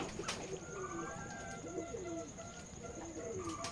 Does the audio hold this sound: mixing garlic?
no